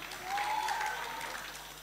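Applause from the audience at a Bible quiz final, a soft, continuous patter of many hands clapping, with a faint voice or tone drifting briefly over it early on.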